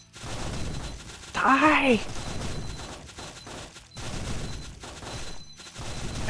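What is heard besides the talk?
fire gun spell shooting in video game Spellbook Demonslayers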